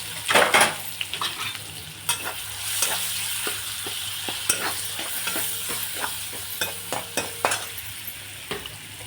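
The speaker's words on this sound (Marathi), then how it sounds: "आता चला हरभरे फ्राय करून घेऊ" Chickpeas frying in a hot kadhai with a constant sizzle, broken by repeated sharp scrapes and clinks of a spoon stirring against the metal, close and fairly loud, no voices.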